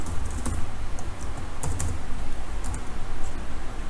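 Steady, close typing on a computer keyboard while writing a C calculator program, with rapid irregular key clicks and a few sharper taps running throughout, with no voice.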